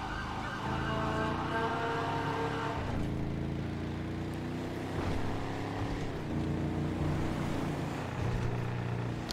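Engine of a Slamtruck in the GTA 5 video game, towing a 1965 Chevy C10, a loud, steady droning hum that drops in pitch with each gear shift, rising again through the revs, with no talking.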